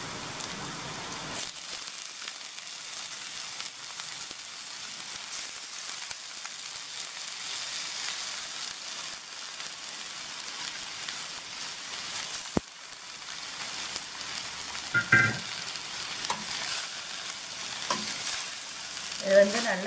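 Cabbage frying with onions in oil in a pan for a cabbage poriyal, a steady crackling sizzle like rain, with a knock partway through and some stirring clatter afterwards.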